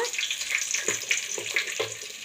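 Onion and curry leaves sautéing in hot oil in a pan for chicken gravy, a continuous close hiss with small spitting crackles and soft stirring thumps.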